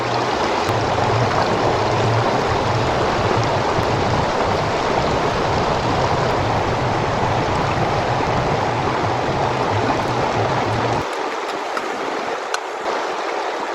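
River flowing beside a riverside cooking spot in the jungle, a steady, dense rushing of water that fills the scene for about eleven seconds before dropping to a thinner, quieter wash, no voices.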